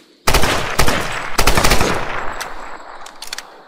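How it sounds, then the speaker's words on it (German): Rapid gunfire from firearms in the Tomb Raider video game rattles loudly in dense bursts, then fades into a ringing echo over a few seconds. "Wenn ich da baller mit den Schusswaffen"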